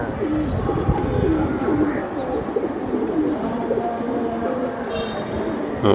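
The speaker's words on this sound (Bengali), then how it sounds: "এগুলো সারাসারির জন্য অনেক কালাবাগা কবুতর" Several Giribaz pigeons coo close by, low throaty rolling calls overlapping in a steady chorus with faint background noise.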